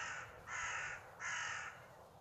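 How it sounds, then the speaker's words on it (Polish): A young crow gives two harsh, drawn-out caws in late-May countryside, fairly close and clear, separated by a short pause. "Młoda wrona fruwa."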